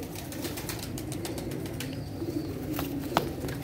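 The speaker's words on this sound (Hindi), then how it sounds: "ये जी बोसी के दबाज कबूतर हैं" Dabaz pigeons kept by a fancier coo softly and close by, with bursts of wing flapping and rustling throughout a short stretch and no one talking.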